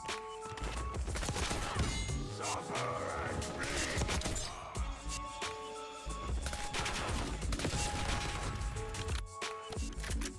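Dense, continuous video game gunfire from Black Ops 6 with an AS VAL rifle, rapid bursts and crashing impacts filling the whole stretch, loud and busy with brief dips around the middle.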